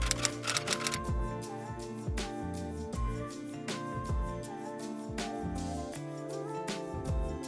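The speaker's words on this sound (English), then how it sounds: "This will give this effect a nice typewriter sound." Typewriter sound effect for a Premiere Pro text animation: rapid mechanical key clacks in an irregular typing rhythm with occasional louder strikes and bell-like dings, close and clear, alone without talk.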